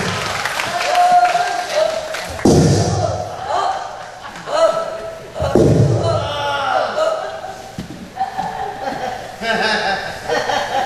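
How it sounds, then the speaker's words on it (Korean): A congregation applauding and cheering during a Korean evening revival church service, bursts of clapping and crowd noise swelling and fading several times under a loud, continuous voice talking over them. "박수 한번 드리시겠습니다."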